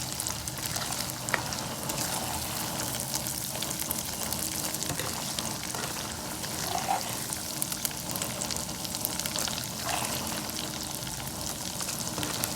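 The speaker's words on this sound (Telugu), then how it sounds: "ఈ వేపుకున్న రొయ్యలు కూడా ఇందులో వేసేసుకున్నాం." Fried prawns cooking in oil with ginger paste and masala in a pan, a dense, loud, continuous frying crackle close by, with faint stirring underneath and no talk.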